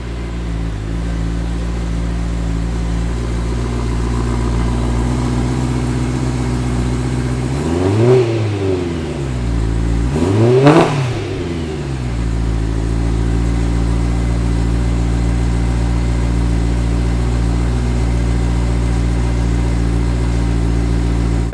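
A BMW M3 fitted with a Macht Schnell X-pipe idles with a steady low rumble, then gets two sharp throttle blips that rise and fall in quick succession before settling back to idle, close and loud.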